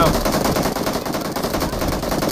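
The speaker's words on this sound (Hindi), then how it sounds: "बहुत भारी गोली चल रही है" Heavy automatic gunfire in the BGMI battle royale video game, a dense continuous rattle of rapid shots that fills the whole stretch at steady loudness, with no clear speech over it.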